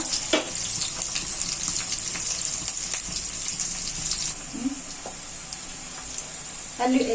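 Onions sizzle and fry in a pan while okra curry is being cooked, a steady hissing crackle with occasional stirring scrapes and faint background sounds, no voices heard.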